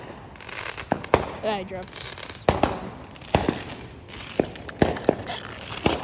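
Fourth of July fireworks and firecrackers going off outdoors, a series of sharp cracking bangs at irregular intervals with brief crackle between, fairly close, with a person briefly speaking.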